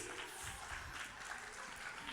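An audience at a stage function claps to welcome its president and secretary, making a soft, continuous patter of applause heard from a distance at low volume, with some voices mixed in.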